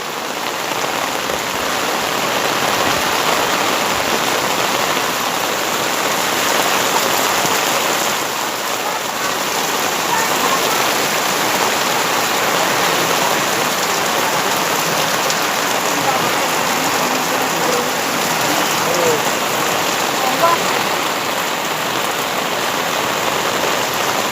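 Heavy typhoon rain pours down steadily, a dense, constant hiss of drops striking surfaces that continues without a break, during flooding in the Philippines.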